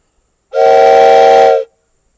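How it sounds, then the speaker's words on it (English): A wooden train whistle gives one steady, loud blast of about a second, a bright chord of stacked tones with breathy hiss, then cuts off cleanly. It is heard outdoors, where the call echoes. "I have a whistle, one of my wooden train whistles"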